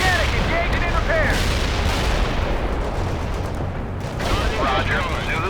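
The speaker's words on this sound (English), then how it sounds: "Zulu 9 are firing mortars into target Enemy troops." Mortar fire in the World in Conflict strategy game, heavy booming blasts and crackling explosions layered into a dense, loud wash of battlefield noise.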